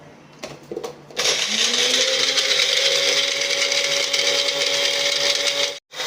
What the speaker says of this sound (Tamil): கொஞ்சம் தண்ணி ஊற்றிட்டு மிக்ஸி அரைச்சற மாதிரி.